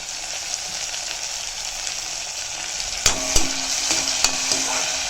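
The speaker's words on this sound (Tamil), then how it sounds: "தக்காளியும் நல்லா வதங்கட்டும்" Tomato with onions sautéing in a pan, a constant close sizzle with a few sharp metallic scrapes and clinks of a spoon toward the end, no talking.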